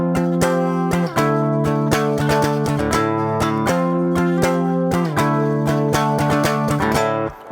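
A clean electric guitar plays the intro rhythm of a song, with ringing chords and sharp, evenly spaced percussive strums in a dotted pattern, loud and continuous throughout.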